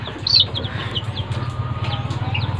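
Joper chickens cluck nearby in a quick, continuous rhythm, with a sharp squawk at the start and occasional higher chirps.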